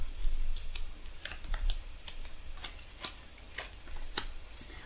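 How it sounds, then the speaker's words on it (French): A deck of tarot cards is cut and handled, giving a series of soft, quiet card clicks and flicks in an otherwise calm room. "Et on va couper pour prendre la suite."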